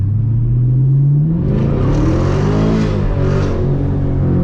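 A Chevrolet Camaro SS engine revs up from a low idle and pulls away down a street, its loud, deep rumble rising and climbing through gears in close view.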